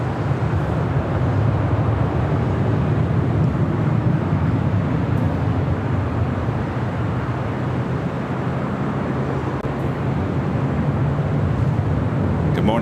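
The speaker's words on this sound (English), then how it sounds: "Got a Queen heading to the 25s, the United 757-300 rolling down" United Boeing 757-300 airliner rolling down the runway at LAX: a steady, loud broadband jet roar with low rumble holding constant and unbroken throughout, heard from a distance across the airfield.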